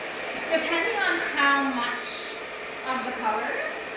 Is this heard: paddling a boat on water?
no